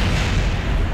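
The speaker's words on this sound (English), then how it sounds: "Ooh, nice explosion." Loud, close explosion from a rocket at stage separation and engine cutout in a space program video game, a single dense blast filling the second with no talk over it.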